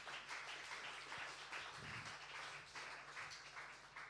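A church congregation claps to welcome newcomers at a Sunday service, a faint, distant patter of applause that stays fairly even throughout.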